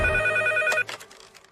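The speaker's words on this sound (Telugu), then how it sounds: "వెంకట్ ఫోన్" A telephone bell rings loudly and close for under a second, then cuts off abruptly, leaving a faint quieter tail of room sound.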